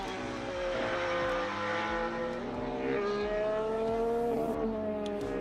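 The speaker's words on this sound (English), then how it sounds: "the car sounds lovely" A 2026 Formula 1 race car drives past with a high, whining engine note that rises and falls through gear changes, steady and moderately loud with no talk.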